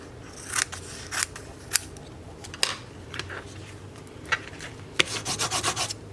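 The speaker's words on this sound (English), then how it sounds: "then I'll cut this notch out" Scissors snip a notch out of a paper envelope in a paper-crafting pocket project, with a series of crisp separate cuts and rustling paper, ending in a quick run of rapid snips.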